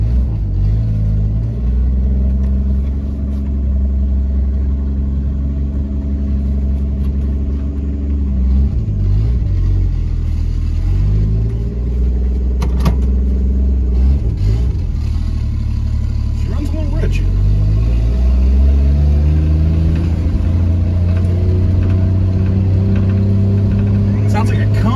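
A 1964 Chevrolet Biscayne with a turbocharged inline-six runs with a deep, steady rumbling idle and occasional revs that rise and fall, heard up close inside the car with people talking over it.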